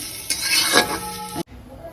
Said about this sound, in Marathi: मी मिरची आता थोडी भाजून घेते